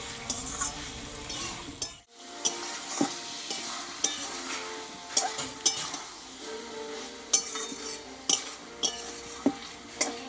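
Mixed vegetables with spices are sautéed in a pan. A soft sizzle runs under brisk spatula scrapes and sharp taps that come every second or so, near and clear, with no speech.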